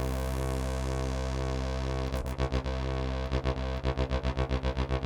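A Yamaha Reface CS synthesizer plays a sustained chord of a straight sawtooth wave in poly mode; partway through, amplitude modulation breaks it into rapid rhythmic pulsing that quickens, with no talking.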